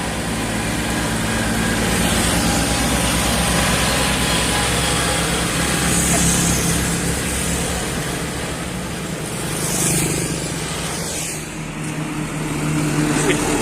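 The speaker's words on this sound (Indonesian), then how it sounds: "Wih, konvoy traktor." A convoy of tractors drives past on a road, a continuous loud engine rumble with heavy low throb that swells and fades slightly as the vehicles pass close by.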